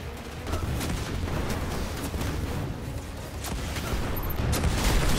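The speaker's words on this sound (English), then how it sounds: "It's fun when you have a big scorch cannon." Repeated heavy booms and crackling blasts from a Scorch Cannon in Destiny 2, several sharp impacts spaced across a noisy firefight, loud and dense with a rumbling low end.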